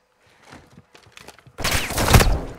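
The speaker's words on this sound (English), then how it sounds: "Somebody's shooting." Gunfire in the Call of Duty: Modern Warfare II campaign: faint scattered pops at first, then a loud close burst of rapid fire filling the second half.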